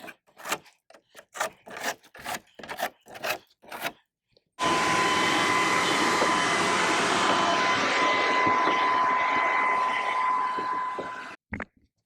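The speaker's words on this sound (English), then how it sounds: "one of the most important parts of doing a deck is leaf blowing" A leaf blower blasting debris out of the cracks between wooden deck boards, a loud continuous whooshing roar with a steady whine, close by for about seven seconds after a run of short rubbing and scraping strokes.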